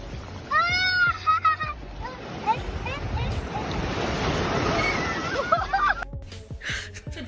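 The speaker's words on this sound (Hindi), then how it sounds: "ये बच्चा इन लहरों को पकड़ने चला था।" Ocean waves surge and roll in a continuous wash of surf. Voices and laughter rise over the water at the start and end, with gusts of wind noise.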